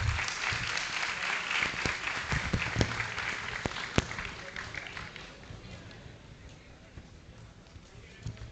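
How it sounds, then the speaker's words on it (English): Audience applause as guests take their seats on stage at a youth convention, moderately loud clapping at first with a few sharp claps standing out, then thinning and fading. "Big round of applause, please"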